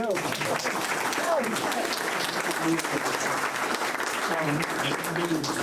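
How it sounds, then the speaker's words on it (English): An audience applauds architecture students for their project work, a dense, continuous wash of clapping with voices calling out underneath throughout. "So I think they deserve a big round of applause."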